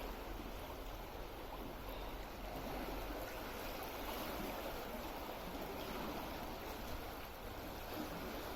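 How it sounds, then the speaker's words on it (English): Water rushing out through canal sluices beside narrowboat moorings, a steady broadband roar heard from a short distance, even and continuous with no talk. "They're letting water out now, by the looks of it."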